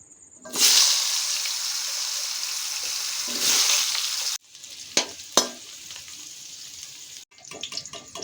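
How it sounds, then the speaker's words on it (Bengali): Potatoes fry in oil with salt and turmeric in a wok, a loud continuous sizzle that swells and fades, broken by a cut, then sharper spatula clatters and a renewed, choppier crackle. "তাই আমরা কড়াইয়ের মধ্যে তেল দিয়ে আলুটাকে ভালো করে ভেজে নেব।"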